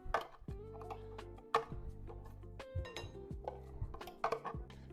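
A fork works butter into flour in a mixing bowl for chocolate chip biscuits, making a steady series of close scraping clinks and knocks against the bowl, with a sustained low hum underneath.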